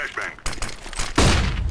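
Rapid gunfire bursts in the shooter game Overwatch, several sharp shots followed by a heavier blast, with someone speaking French over the action.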